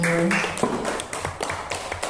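Classroom applause for a student who has just finished reciting the Quran, a short burst of scattered clapping from a group filling the room at moderate loudness, with a brief tonal ring at the start.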